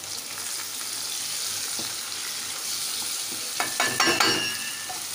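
Chili and turmeric powder fry in hot oil with softened onion and tomato for a mutton liver kulambu, giving a steady close sizzle. A few clattering stirring scrapes rise near the end, with no talking.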